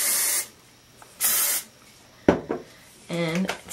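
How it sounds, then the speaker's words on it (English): Short bursts of hairspray hiss twice, separated by pauses, followed by faint rubbing and a soft voice near the end. "I'm going to be spraying it"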